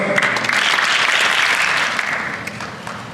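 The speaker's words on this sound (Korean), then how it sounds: "큰 박수" Crowd applause at a martial arts association ceremony after a rank promotion certificate is awarded, a steady wash of many hands clapping that tapers slightly toward the end.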